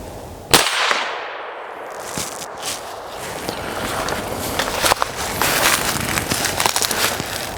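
One loud, sharp suppressed rifle shot cracks out near the start, followed by scattered clanks and rustling outdoors, with a few faint thumps later and no speech.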